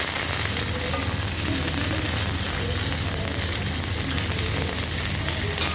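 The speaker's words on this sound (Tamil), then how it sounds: "இப்போ கட் பண்ணி வச்சதெல்லாம் நம்ம கடாயில் போட்டுக்கலாம்." Onion, tomato and garlic sautéing in a kadai for chutney, a loud, continuous crackling sizzle heard close and without a break.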